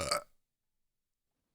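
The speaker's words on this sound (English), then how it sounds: "I'm going to burp on you more" A single short, close burp from a man on a video game podcast, lasting a fraction of a second and followed by silence.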